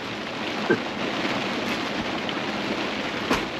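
Heavy summer downpour falling steadily as a dense, even hiss, with a couple of faint brief knocks over the rain.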